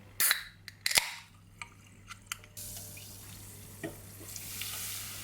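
Cold soda water for shrimp batter cracks open with sharp pops, then pours and fizzes, with scattered crackles and bubbling hiss that settles into a soft steady effervescence, close and quiet.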